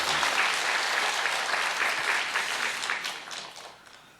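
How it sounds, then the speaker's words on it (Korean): Church congregation applauding to congratulate a family on a new grandson, steady full clapping that gradually fades toward the end. "크게 박수로 축하해 주시기 바랍니다"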